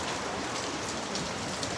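Steady rain pours down in a dense, even hiss with no pauses.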